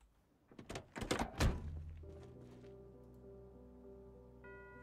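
Furniture is broken down in the video game Project Zomboid: a quick series of several heavy thuds and knocks, followed by fading tonal ringing and a soft game chime.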